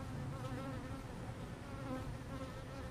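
Bees buzz steadily around an abandoned hive that may have swarmed, a dense close hum of many insects that holds at an even level the whole time.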